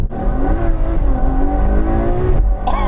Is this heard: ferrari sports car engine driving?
yes